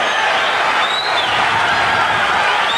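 A London boxing crowd at a 1985 lightweight bout between Edwin Rosario and Frankie Randell roars with continuous clapping and cheering, a thick constant wall of noise with a faint rising whistle in the middle.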